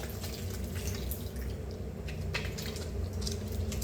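Hands are washed with soap under a running tap, with steady splashing water and squishy lathering rubs close by and no one talking.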